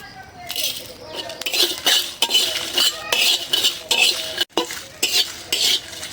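Panch phoron spices and chili stirred in a pan while making a wood apple pickle, with repeated scraping and clinking strokes and a light sizzle under it.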